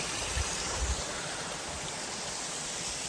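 A mountain stream and waterfall rushing beneath a suspension bridge on a hiking trail near Ghandruk, Nepal, a steady full roar of flowing water with a couple of low thumps early on.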